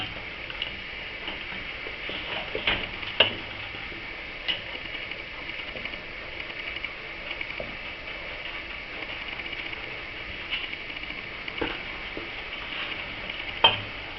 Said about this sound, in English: Have to let it boil for 1 minute at a good solid rolling boil.